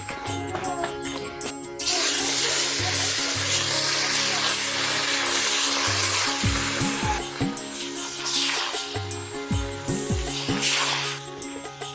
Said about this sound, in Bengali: গরম তেলে মাছ ভাজা দেখতে লাগে দারুণ মজা